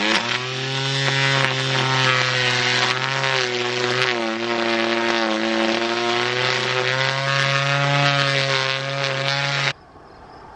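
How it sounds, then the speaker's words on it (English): A Worx WG184 cordless straight-shaft wheeled line trimmer runs at a steady, loud motor whine for nearly ten seconds, then cuts off abruptly near the end. "So now I have a straight shaft wheeled line trimmer."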